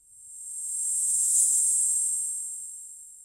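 A white noise sample joined to its own reversed copy forms a lo-fi beat effect. It swells in as a bright high hiss, peaks near the middle and fades out again, smooth and steady with no voice over it.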